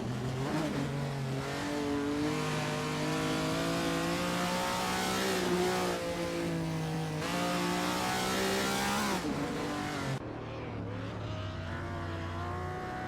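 AI supercars roar around Weatherfield Speedway in a racing game, engines revving up and down in repeated sweeping pitch climbs and shifts, loud and continuous, with a final drop as the note falls away near the end.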